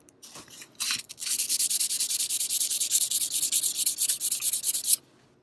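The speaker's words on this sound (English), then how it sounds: "Let the sandpaper do the work, folks." Sandpaper, starting at 400 grit, rubs back and forth on the tang of a cheap straight razor being restored; rapid, even rasping strokes follow a few tentative scrapes, then stop abruptly, with no talk.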